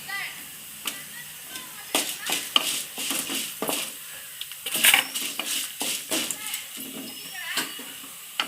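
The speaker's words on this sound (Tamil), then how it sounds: "வதக்கிறதுக்கு அஞ்சு மிளகா போட்டிருக்கேன் இது நல்லா பொன்னிறமாக அளவுக்கு வதக்கிட்டே இருங்க" Five dried red chillies being sautéed in a pan for radish chutney: a spatula stirs and scrapes with repeated irregular clicks over a faint sizzle, while someone talks throughout.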